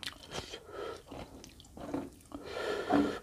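Close-up crunchy chewing and biting of a Thai pounded rice noodle salad with fresh shrimp and raw vegetables, with a series of wet crunches and smacks in an uneven rhythm, growing louder toward the end.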